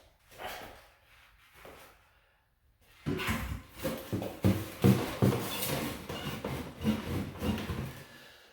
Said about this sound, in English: now I'm going to run the pipe through the studs.